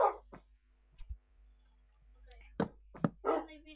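A dog in the Minecraft video game lets out short whimpers and yips, spaced apart and mixed in among bursts of someone talking.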